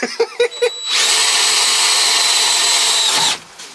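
A power drill bores through the cab roof of a Ford TW25 tractor, a few short taps then a steady close whirring grind lasting about two seconds before stopping.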